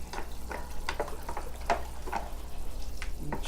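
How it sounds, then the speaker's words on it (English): Molasses is stirred into water in a bucket, giving soft irregular sloshing and light knocks and ticks against the sides over a low steady background hum, close and fairly quiet, with no talk. "So what I do is I just give it a stir."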